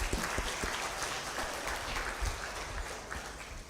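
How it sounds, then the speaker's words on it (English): A final round of applause from the audience closing a community of practice session: dense, steady clapping from a room full of people that continues throughout and tapers only slightly toward the end. "One last round of applause."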